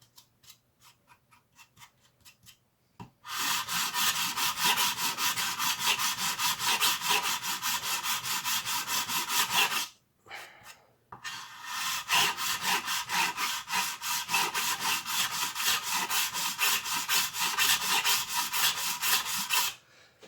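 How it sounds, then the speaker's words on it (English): A file rasps on a 3D printed part in fast, steady back-and-forth strokes, close and scratchy, in two long runs separated by a short pause after a few faint taps at the start. "the sound kind of changed when I was filing, and that's because I was starting to file on the 3D printed part"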